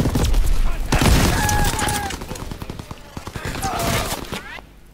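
Gunfire and a grenade explosion in the Call of Duty WWII video game, a dense burst of shots with a loud blast near the start and scattered shots after.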